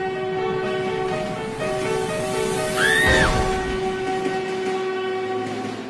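A train at a railway station rumbles along as its horn blares once in a rising and falling sweep, loud and close over the rolling clatter of the cars.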